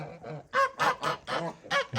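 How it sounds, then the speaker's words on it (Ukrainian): Geese honk loudly and repeatedly close by, a string of harsh, nasal calls in quick succession with short gaps between them. "Почну з гусей, самі крикливі, от ви можете бачити."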